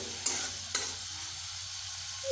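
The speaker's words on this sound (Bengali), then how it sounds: "টমেটো এইভাবে কিছুক্ষণ ভাজতেই কিন্তু টমেটোটা বেশ নরম" Tomatoes fry in a pan for a pumpkin dish, giving a quiet, steady sizzle with two sharp scraping clicks of a stirring utensil early on.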